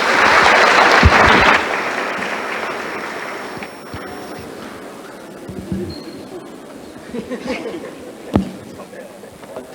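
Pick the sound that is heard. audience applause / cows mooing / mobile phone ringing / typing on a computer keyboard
audience applause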